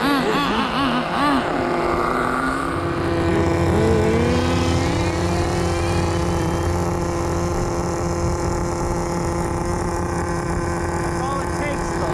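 Remote-control cars in a drag race on a road, a loud, high-pitched whining motor that rises in pitch as it accelerates, then holds a steady buzz, with people talking over it.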